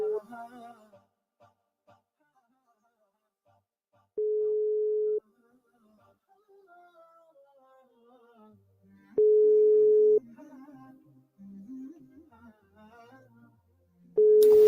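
Telephone ringback with a call going unanswered: three steady electronic tones of about a second each, spaced several seconds apart, loud and clean, with faint music-like tones between them.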